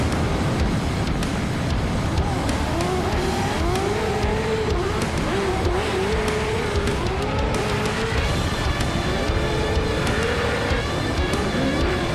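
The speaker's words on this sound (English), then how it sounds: "Fires across the nose of that Toyota Supra, and Vaughn, banging bumpers, transitioning." Formula Drift cars, including a Toyota Supra, battle in tandem, with engines revving and wailing up and down through transitions and tires squealing, loud and continuous throughout.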